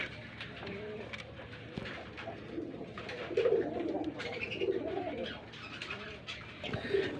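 High flyer Pakistani blood pigeons coo in repeated low, throaty bursts, fairly close, over a busy background of rustling and faint chirps.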